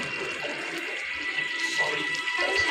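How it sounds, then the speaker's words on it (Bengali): Water left from rinsing a mixer jar pours steadily into a cooking pan, a continuous close splashing rush. "এবার আমার মিক্সিতে ধোয়া জলটা আমি একটু দিয়ে দেবো"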